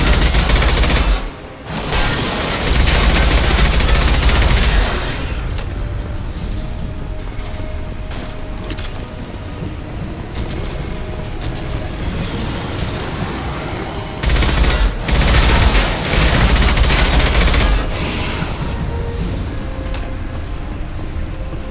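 Sustained automatic gunfire in Mass Effect 2 Legendary Edition erupts in long, loud bursts of rapid clattering shots, with brief lulls and mechanical clicks between volleys and a second heavy burst near the middle.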